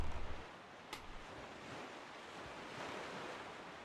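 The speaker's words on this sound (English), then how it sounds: "Take the moment to just listen to the ocean." Ocean waves and a steady breeze in The Legend of Zelda: Wind Waker, a soft continuous wash of surf and wind noise with a few low thumps at the start and no talk.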